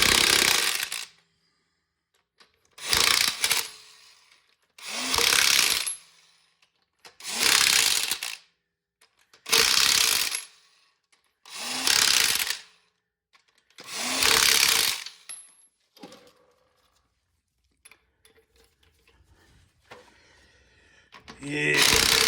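Impact wrench driving lug nuts on a 2019 Ram 1500 Bighorn, seven loud, close bursts of a couple of seconds each at an even pace, separated by silence, then faint clicks and handling noise at the end.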